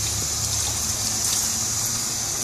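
Tap water runs in a steady, continuous gush into a basin while hands are rinsed during handwashing for infection control in an office practice, with no voices over it.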